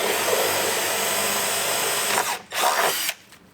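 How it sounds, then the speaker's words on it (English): A power drill with a 5/16 bit whirs steadily at close range, drilling into a screw on a Yamaha Wolverine RMAX2 1000 to fit fenders, briefly stopping, spinning up again, then cutting off near the end. "So now we're just going to go ahead and drill straight into the screw."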